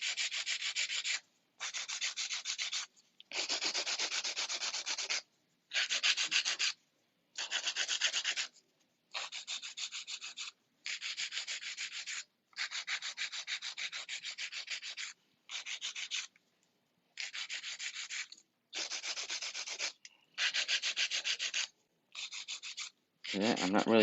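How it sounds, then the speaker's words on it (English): Hand filing of a marble powder acrylic nail with a 100 grit file, a long series of rapid, close scratchy rubbing strokes in short bursts separated by brief pauses. "I'm using about 100 grit right now."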